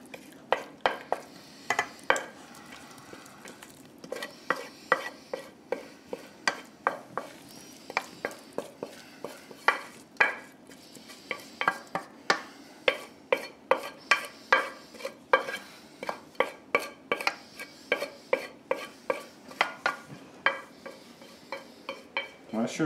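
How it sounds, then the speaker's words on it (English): A spoon scrapes and clacks steadily around a pan of sausage, vegetables and jalapenos being mixed for a quiche, dozens of sharp close knocks in an even rhythm over a faint sizzle. "Mix this around a bit."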